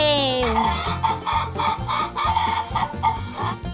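A flock of chickens clucks in quick, busy overlapping calls, fairly loud and close, for the full few seconds.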